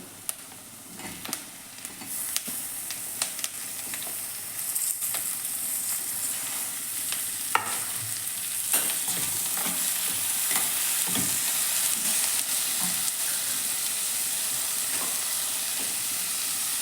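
Onions fried until browned in a pan for paneer masala, with chopped tomatoes then added, give a steady, close sizzle broken by scraping stirs and occasional clinks of the spatula, with no talking.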